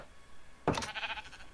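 A sheep bleats in a video game: one clear, wavering bleat breaks a quiet background and carries on to the end.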